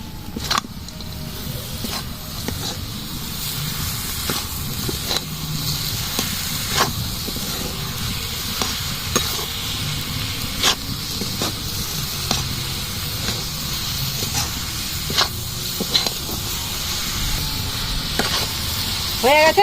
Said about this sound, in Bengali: কুচানো নারকেলটাও দিয়ে দেব।